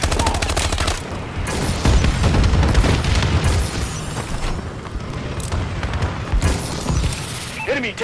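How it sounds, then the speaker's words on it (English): Dense, continuous barrage of booms and gunfire from a friendly bombing run in a multiplayer shooter game, loud and sustained with heavy low rumble and overlapping blasts. "Friendly bombing run incoming"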